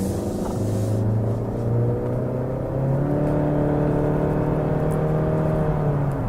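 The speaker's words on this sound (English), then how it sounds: "Engine's a little noisy on acceleration, kind of grumbly kind of sounding." A 2018 Honda Accord turbocharged engine accelerating with a low, grumbling drone that rises steadily, close and continuous.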